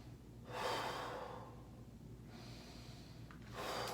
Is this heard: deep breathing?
yes